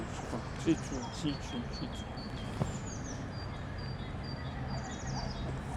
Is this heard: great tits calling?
yes